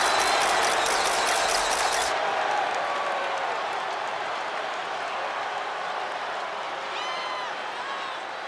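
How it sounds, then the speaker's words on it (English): A home wrestling crowd greets Tiffany Stratton with warm applause and cheering, a loud burst of clapping that cuts off after about two seconds, leaving a fading arena murmur. "Tiffany Stratton getting a warm welcome from this home crowd"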